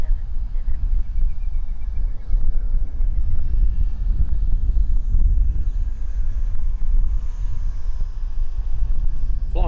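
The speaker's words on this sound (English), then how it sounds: "Wind's coming up a little bit, I don't think it likes the wind." Steady wind buffets an outdoor RC flying field where a small Eachine mini T-28 Trojan RTF plane is flown, a continuous low roaring rumble of wind noise on the microphone throughout, with a person talking intermittently.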